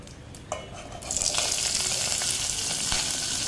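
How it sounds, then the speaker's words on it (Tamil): Hot sesame oil sizzles and crackles with popping mustard seeds, a bright steady spluttering that starts suddenly and continues close up. "கடுகு நல்லா பொறிஞ்சிருக்கீங்க"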